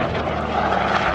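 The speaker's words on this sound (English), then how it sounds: "that engine sounds great as he pulls up into the sky" A Yak-11 aircraft's propeller engine roars loud and steady as the plane pulls up into the sky during an airshow. The broad, continuous drone fills the whole short clip.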